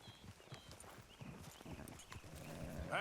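Horse hooves clip-clopping in Red Dead Redemption 2, a quick steady run of hoofbeats at a walking pace with faint voices beneath, ending in a brief louder burst.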